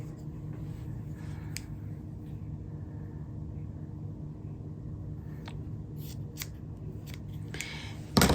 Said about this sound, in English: So let's just cut this in half here.